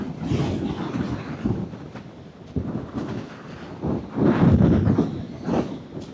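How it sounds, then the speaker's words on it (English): Heavy outdoor wind buffeting the microphone on a hillside, loud rumbling gusts that swell and fade continuously throughout, no voices. "Oh man, sorry about this wind."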